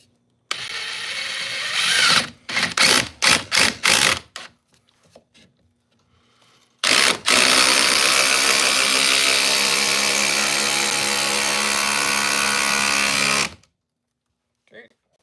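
A power tool drives a screw into new wood, first in several short stuttering bursts, then in one long, steady, loud whir that stops abruptly.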